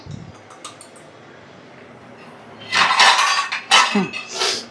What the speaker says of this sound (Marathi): आता मी ही एक डिश घेतली आहे आणि हा चम्मच घेतला आहे